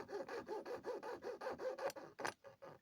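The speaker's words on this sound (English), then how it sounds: "you saw down the length of it, releasing each link as you go" Thin jeweler's saw blade cutting through 14k gold chain links, a close, steady back-and-forth rasp of about a dozen quick strokes, ending in a couple of sharper scrapes.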